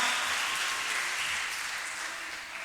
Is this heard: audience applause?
yes